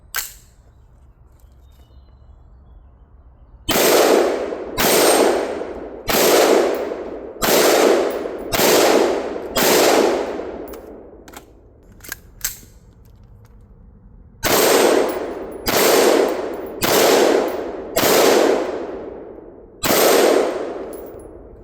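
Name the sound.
AR-15 rifle shots fired downrange with CMC flat trigger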